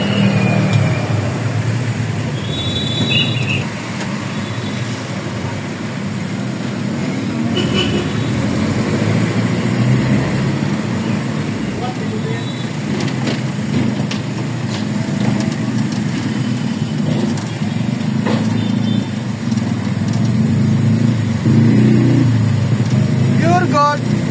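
Road traffic in Makati near a Puregold store, a loud continuous rumble of cars, buses and idling engines with occasional mechanical clanks, under ongoing conversation.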